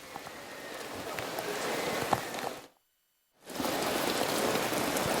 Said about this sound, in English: Weather delay continues at Notre Dame Stadium, and the rain coming down harder and harder.